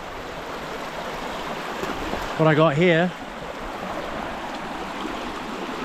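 A cold river in the New Zealand wilderness rushes in a steady, close broadband wash that never lets up, and someone speaks briefly over it partway through.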